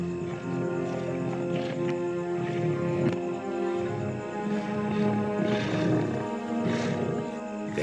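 Lions growl and rumble at night while feeding on prey, a dense, continuous low snarling from several animals that rises and falls in waves without pause.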